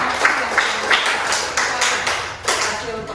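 A classroom group finishes its presentation and gets applause: dense, scattered clapping from many people, mixed with background voices.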